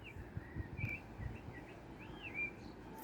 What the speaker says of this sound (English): Tune into the birds, tune into the constant movement, the constant sound.